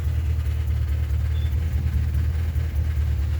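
A Pontiac G8 GT engine idles with a misfire, a steady low rumble with a subtle uneven pulsing in the exhaust, heard close and alone without talk.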